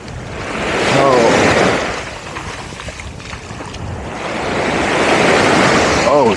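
Ocean waves break on a beach in Phuket, Thailand, surging loudly in two swells with wind buffeting the microphone close by.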